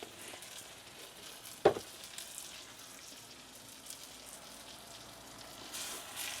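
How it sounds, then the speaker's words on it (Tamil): Chili powder sautéing in a pan for a coconut-milk curry gives a soft, steady sizzle, with one sharp clack of a spoon or pan near the start. "மிளகாத்தூளை நல்லா வதக்கிட்டு"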